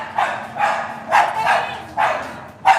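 A dog barks repeatedly and fairly loudly at close range, about five or six sharp barks in an uneven rhythm over a quiet background.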